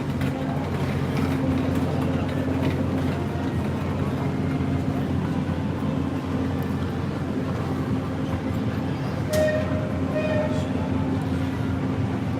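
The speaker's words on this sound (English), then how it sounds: "I think you can hear the train behind me." A train rumbles past near Disneyland, a steady low drone running the whole time with a brief squeal of wheels near the end, under faint background voices.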